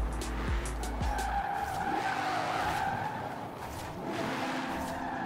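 A Mustang drifting in the racing game Forza Horizon 4, its tires squealing and skidding continuously under a steady engine drone. The sound is loud and sustained throughout with no pauses.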